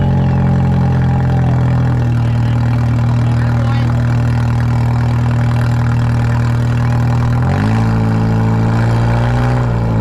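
From inside a figure 8 race car, a loud engine drones at steady revs for several seconds, then the pitch jumps sharply as the throttle opens near the end, close and continuous with no talk.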